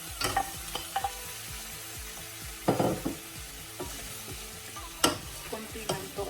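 Chicken feet with ginger are stirred while frying, a quiet sizzle punctuated by several distinct scrapes and knocks of a utensil against the pan at irregular intervals.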